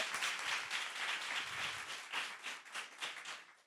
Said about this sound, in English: if y'all could clap it up for her